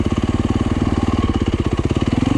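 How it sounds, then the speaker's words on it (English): Close and loud, a Yamaha YZ250 dirt bike motor lugs at very low RPM, each slow, evenly spaced firing pulse thudding out in a deep, chugging rhythm without stalling. "You can hear the motor. It's lugging very"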